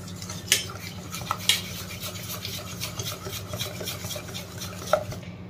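Jalebi batter with added water being mixed in a bowl, repeated scraping and rubbing strokes with occasional sharper clinks of utensil against the vessel, close and steady, no talking.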